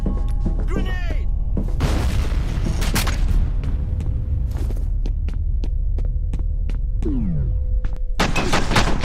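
A grenade blast in a shooter video game, heard as a deep rumbling boom with scattered sharp gunshot cracks and a steady low hum, ending in a loud burst of noise.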